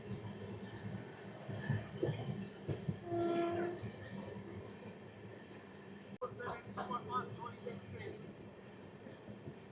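The 12347 Shahid Express rumbles steadily as it runs into Kamarkundu station, with a brief wheel squeal, a clatter of wagons and a sharp jolt partway through. A local train is running just ahead.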